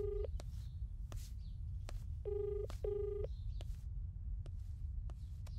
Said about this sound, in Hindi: भाई रिंग जा रही है।